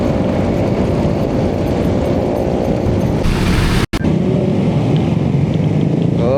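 A motorcycle rides at night on a road between Bogor and Cianjur, its engine droning steadily and close up with a brief dropout partway through, no talking.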